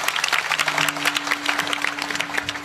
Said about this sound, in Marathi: एकदा जोरदार टाळी वाजवा दोघांकरता जोरदार एकदम